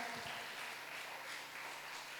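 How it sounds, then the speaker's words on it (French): Applause from a church congregation during a sermon on the resurrection of Jesus, a steady broadband wash of clapping that continues evenly across the short stretch, fairly faint and without voices. "Sur vos applaudissements, s'il vous plaît."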